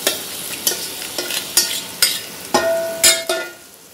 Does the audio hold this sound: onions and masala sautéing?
yes